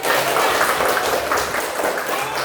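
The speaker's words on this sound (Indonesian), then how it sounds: "Oke, tepuk tangan." Vocational high school students in a classroom clap together in a brisk, loud burst that holds steady, then begins to thin toward the end.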